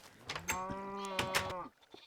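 Sheep bleat twice in a farming video game, two close, clear wavering cries of moderate loudness, each about half a second long, with no talk over them.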